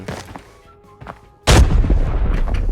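A grenade detonates in the shooter game Arena Breakout as a sudden loud, booming blast that decays into a rumbling tail, following a quieter stretch of soft footsteps and game noise.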